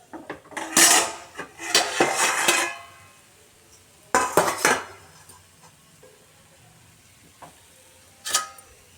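Pan lid and steel plate clinking and clattering while ponganalu cook in a pan, in a few sharp bursts of metallic knocks separated by quieter gaps.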